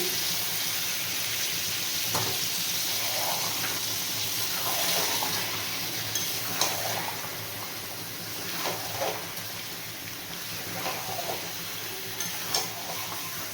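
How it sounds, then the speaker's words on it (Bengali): Chicken curry with potatoes sizzles steadily in a pan as blender-rinse water is added bit by bit and stirred in, giving bursts of hissing and spatula scrapes over continuous frying noise. "এরপর মিক্সির বাটি ধোয়া জলটা একটু একটু করে দেব আর মিশিয়ে নেব।"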